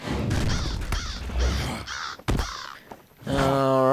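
Crows in Lord of the Rings Online caw loudly in a series of harsh, raspy calls, about seven close cries in quick succession, followed by a drawn-out strangled death squawk.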